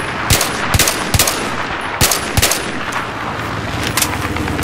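Gunfire from an enemy helicopter in an online shooter game, a series of loud sharp bursts at irregular intervals over a steady background rumble, no talking.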